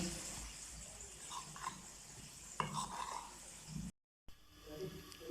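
Chicken pieces being tossed and mixed in flour in a bowl for a zinger burger, soft close rustling and scraping with a few light knocks of the bowl, fairly quiet, with a brief dropout near the end.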